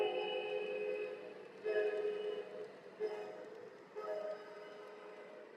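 Large-scale Bachmann model trains rumble steadily along a layout track, with a low motor hum and periodic swells as cars pass nearby; no voices.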